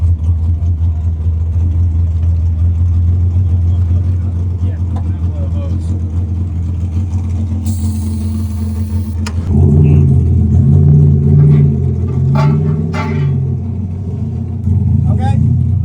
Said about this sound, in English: It sounds like it's moving faster and it's firing.